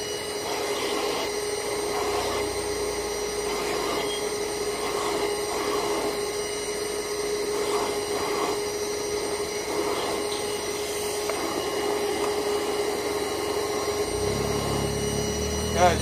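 A powerful vacuum runs steadily at close range for the whole stretch, its suction a constant broadband roar with some scraping and rubbing over it and a low rumble near the end.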